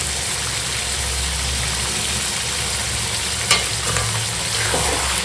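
Chicken being stir-fried with chilli powder, turmeric, salt and a little water in a pan gives a steady, moderate sizzle with faint scraping of stirring throughout, no voices.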